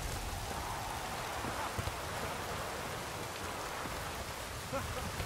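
Steady rain in The Witcher 3 pours down in a dense, hissing wash, with a few brief knocks and a faint voice buried beneath it.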